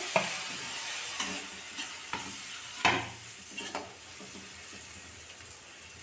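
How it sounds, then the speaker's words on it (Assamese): Fish sizzles steadily as it fries in a pan, with chopped chilies being stirred in and a few soft scrapes of the spatula over the constant hiss; no talking. "এতিয়া কাটি থোৱা জলকীয়া এইখিনি দি দিওঁ লগতে।"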